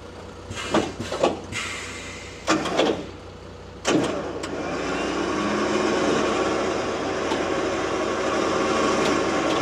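A motorized carrier platform for vehicles such as a Smart car, quad or motorcycles lowering all the way down: a few clunks and knocks, then a steady mechanical whine and hum building and continuing to the end.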